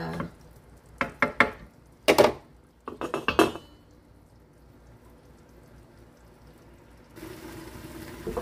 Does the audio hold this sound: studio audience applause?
no